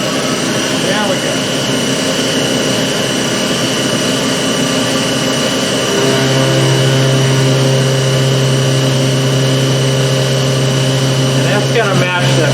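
A CNC machine cuts an aluminum kill switch cap for a Ducati 860GT, giving a steady high whine with layered tones that deepens partway through, loud and continuous.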